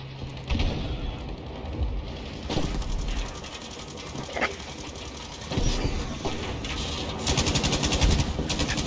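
Sustained covering gunfire in Battlefield V, a rapid, rattling automatic burst that runs almost continuously with some louder shots, close and moderately loud amid game noise.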